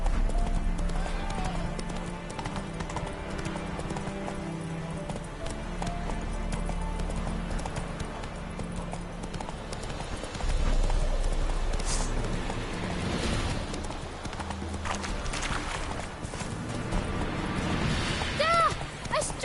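A horse gallops in The Witcher 3, its hooves clip-clopping in a steady rhythm under game music and sound effects. A few bursts of louder action and crashes come through, and brief voices are heard.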